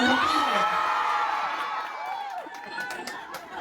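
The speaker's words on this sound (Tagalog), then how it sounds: "At mas malakas yung sigawan ngayon." A large crowd at a Pasig political caucus rally in Barangay Bagong Ilog whoops, yells and cheers loudly, a dense roar of many voices that swells at first and then eases slightly while staying strong throughout.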